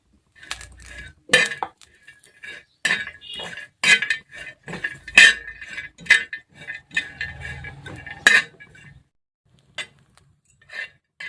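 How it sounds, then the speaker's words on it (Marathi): Grated coconut being dry-roasted in a pan, with a spatula scraping and clinking against the metal in repeated irregular strokes, close and fairly loud, then fading to quiet. "आता खोबरं पण भाजून घ्यायचंय अशाच प्रकारे"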